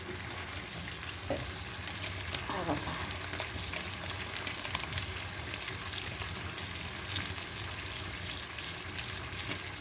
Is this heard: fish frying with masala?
yes